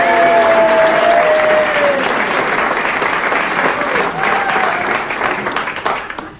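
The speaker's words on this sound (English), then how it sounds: "The generosity of that applause shows just how much your public appreciate your work over the years." Loud, full audience applause greeting a husband-and-wife singing duo, close and sustained with a brief tone sounding early, then tapering off near the end.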